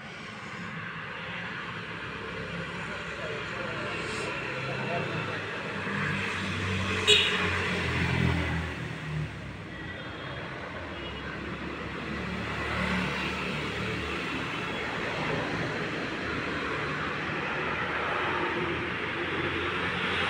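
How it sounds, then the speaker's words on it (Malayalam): Steady rumble of road traffic with vehicles passing continuously at a moderate distance, one louder pass swelling briefly near the middle. "ഇവിടെ എപ്പോഴും വണ്ടികളെ സൗണ്ട് മാത്രമേ ഉള്ളൂ."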